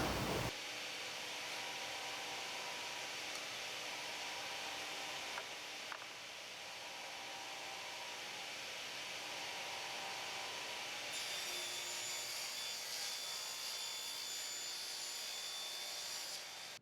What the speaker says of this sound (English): I'll cut to length with the sled, squaring up one end, and using the positive stop